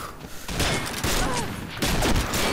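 Gunfire rattles in the video game Combat Arms, loud and close, in rapid overlapping bursts with heavy thumping impacts and almost no pause across the whole stretch.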